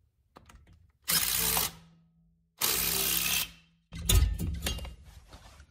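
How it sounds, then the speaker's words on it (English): Ratchet driving a bolt into a front brake rotor on a 2008 Toyota Prius to push it off the hub, heard as two long steady bursts of fast clicking, then a rougher stretch of clicks with a metallic clunk, close and loud. "we're gonna screw the bolt into the rotor so it pushes against the main hub"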